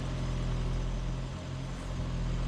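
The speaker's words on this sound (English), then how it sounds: "The vehicle started up, it's running" A Toyota Prius running just after starting up after sitting almost two years on old gas, a steady low engine drone with a constant hum, close and unbroken, with no voices.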